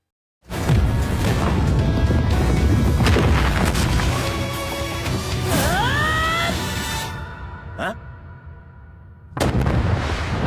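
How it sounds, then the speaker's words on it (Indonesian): A loud, sustained blast with crashing debris rolls on for several seconds, then fades before a second sharp burst hits near the end; an anime attack explosion. "memaksa Saitama untuk melindungi Fubuki dari efek ledakan serangan Genos pada Sonic"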